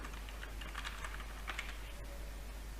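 Quick, steady keystrokes on a computer keyboard, close and fairly quiet, clicking in a continuous run with no talking.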